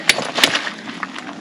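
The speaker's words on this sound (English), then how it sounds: "So I'm just going to crack these nuts" A wrench cracks loose stiff wheel nuts on a Mini Cooper during a home snow-tire swap. Two sharp, close cracks ring out, followed by lighter scattered clicks.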